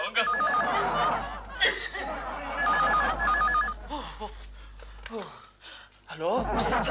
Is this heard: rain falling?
no